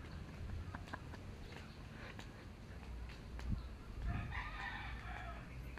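A rooster crows at a distance amid steady outdoor background noise at a house in the Philippines, with scattered faint clicks and rustling around it.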